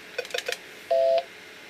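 A Norstar business phone dials with DTMF tones: a quick run of short touch-tone beeps, then one longer, louder steady dual tone, heard clearly on its own.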